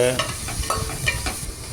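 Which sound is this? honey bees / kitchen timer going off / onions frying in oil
onions frying in oil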